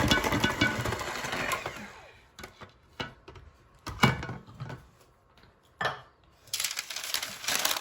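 A spatula scraping cake batter off the side of a mixing bowl for a chocolate and vanilla cake, heard as repeated rubbing scrapes and light knocks against the bowl in uneven bursts, with quiet pauses between strokes.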